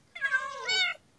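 A black and white cat in a video game lets out one drawn-out, rising-and-falling meow, close and clear, with a faint start of another sound at the end.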